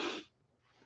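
A single short sneeze bursts out up close and cuts off quickly, followed by faint breathing.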